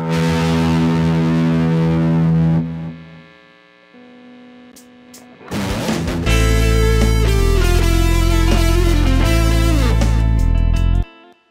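A heavily distorted electric guitar, played through free computer looper software, rings out in sustained chords, a gritty, buzzing tone that drops to a quieter stretch before a loud held chord returns.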